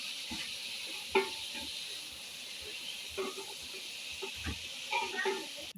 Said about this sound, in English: I'm going in with my onions. And allow it to fry for a while.